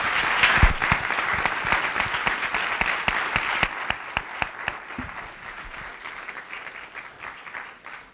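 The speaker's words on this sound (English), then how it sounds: "Let's give him a round of applause." An audience claps steadily and warmly, the applause holding strong before gradually thinning out toward the end.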